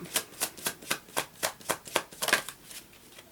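Tarot cards being shuffled in a steady run of about a dozen crisp riffling bursts, close and fairly quiet, with no talking.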